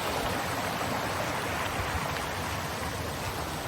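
A waterfall in a Caucasus mountain forest gives a broad, constant rushing roar, steady and unbroken, with no other sounds standing out.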